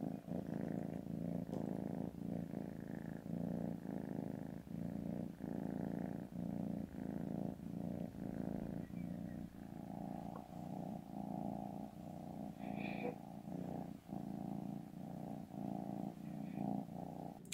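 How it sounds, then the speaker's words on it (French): A small male cat purrs close up in a steady, continuous rumble with regular breath pulses, quiet overall and heard alone for the whole stretch. "Et ça ronronne fort, hein."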